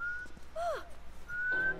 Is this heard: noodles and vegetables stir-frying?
no